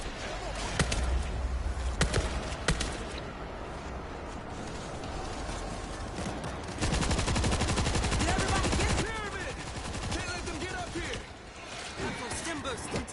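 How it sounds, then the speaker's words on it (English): Machine gun fire in World War Z, with dense rapid bursts that hammer on at length and drop out briefly before resuming, set among loud game noise and shouts. "We're going to use this machine gun or whatever heavy weapon you happen to have."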